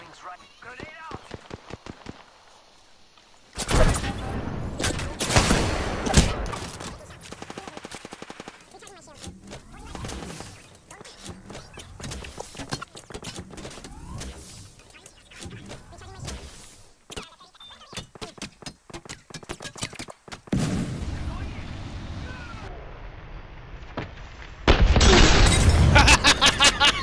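A grenade explodes amid gunfire in Apex Legends, heard as booming blasts and crackling volleys of shots that swell and fade across a busy firefight, with loud bursts near the end and players talking throughout.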